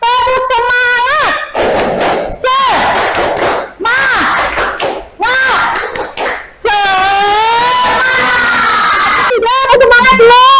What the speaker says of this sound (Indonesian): Tepuk semangat ya, biar semangat.